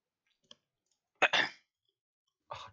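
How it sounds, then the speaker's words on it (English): A single short cough, then a louder two-part cough close to the microphone, and another brief cough at the end, each separated by near silence. "Your cough sounds like you're like right in my ear"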